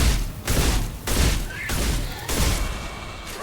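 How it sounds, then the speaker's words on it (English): Repeated bursts of gunfire from the video game Mass Effect 2, with loud broadband blasts and booms arriving in clusters roughly every second, dense and close throughout. "I was shooting at bad guys."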